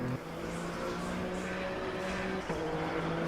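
Race car engine in Le Mans Ultimate drones steadily at moderate volume with a buzzy, even tone, then drops briefly in pitch near the end, like a gear change.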